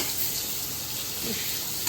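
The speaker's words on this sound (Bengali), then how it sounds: "আমি একটু ভেজে নিই।" Pointed gourd (potol) pieces fry in hot oil in a pan, giving a steady, close sizzle and crackle that runs evenly through the clip with no talk over it.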